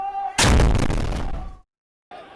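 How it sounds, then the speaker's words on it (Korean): A loud, close burst of gunfire exchanged from rooftops during an Israeli army raid in Nablus roars for over a second and cuts off abruptly into silence before background noise returns. "옥상에서는 총격이 오갑니다."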